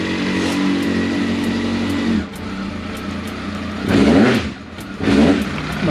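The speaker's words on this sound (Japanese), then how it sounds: "とりあえずエンジンかかったんでよかったっすよ" A long-haul heavy truck tractor's engine runs after a hard start, idling with a steady low rumble and then revving up loudly twice near the end, close by.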